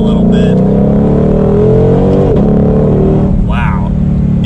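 Ford Mustang Shelby GT500 from the 2020-2023 generation accelerating hard, its engine note climbing and dropping through rev-matched downshifts, loud and close, with a person talking over the engine.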